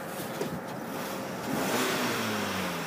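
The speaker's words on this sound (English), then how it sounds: "Motor sounds good and peppy." The engine of a 2008 Kia Optima LX runs nearby, a steady mid-pitched hum that rises as it revs up partway through.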